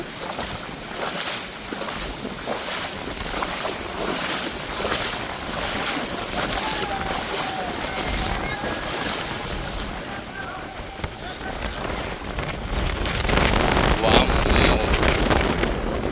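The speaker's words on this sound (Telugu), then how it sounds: "అదే దేవుడికి అభిషేకమై కిందకు వచ్చే వాటర్." Water pouring down at a temple by a deep pool, a steady close rush and roar with wind buffeting the microphone, growing louder toward the end.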